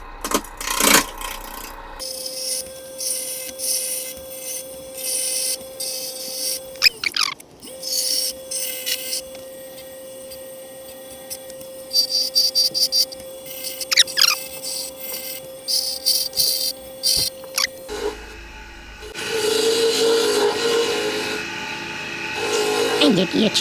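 A round carbide bit carves wood in repeated grinding bursts, a high buzzing whine that rises and falls, while people talk intermittently over it.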